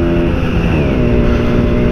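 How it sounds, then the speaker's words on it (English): A 1952 BSA three-speed motorcycle rides in top gear at a bike meet. Its engine drones loud, close and steady, with a rich throbbing tone and no voices. "Top gear on a 3-speed 1952 BSA."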